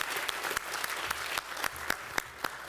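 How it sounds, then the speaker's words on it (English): An audience at a city commission meeting applauds students being honoured, with a steady spatter of clapping from a modest crowd and a few sharper, louder claps standing out. "Let us give these amazing students another round of applause"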